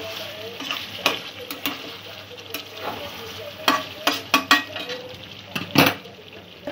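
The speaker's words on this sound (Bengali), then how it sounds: "বন্ধুরা, আলু দিয়ে 5-7 মিনিট আমি মশলার সাথে কষিয়ে নিয়েছি।" Potato chunks sauté with spices in a pan for aloo dum, a continuous sizzle broken by loud, irregular scraping and clattering stirs against the metal, close up and with no talking.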